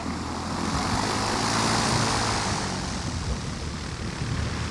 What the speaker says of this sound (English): This aircraft is carrying the latest weapon in the fight against Japanese encephalitis.